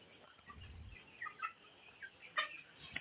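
Young broiler chicks, about four days old, cheep and peep faintly in short scattered calls, with a soft low rustle early on and no talking.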